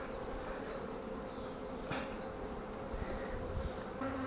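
Honey bees at an open hive during a frame inspection give off a steady, dense buzz that stays close and even throughout, with a few louder individual bees passing near. No one speaks.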